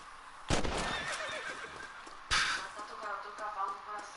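A horse in the video game Red Dead Redemption gives two loud, drawn-out whinnies, the second about two seconds after the first, each trailing off, with faint hoof sounds between them.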